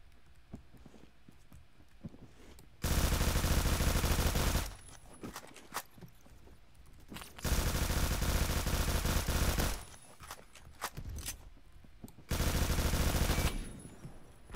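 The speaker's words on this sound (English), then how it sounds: "Machine gun honey badger. Armor piercing bullets." A Honey Badger rifle converted to fully automatic fire with armor-piercing rounds in a video game, heard as three loud, sustained bursts of a couple of seconds each, separated by quieter gaps.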